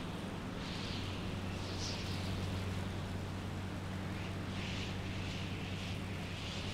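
A helicopter in the Stormworks video game drones steadily with a low, rumbling rotor and engine hum under broad airy noise, sustained and fairly even throughout.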